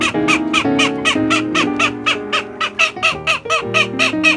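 A chorus of poultry calls, with loud overlapping crowing and clucking repeating rapidly and close by, with no talking.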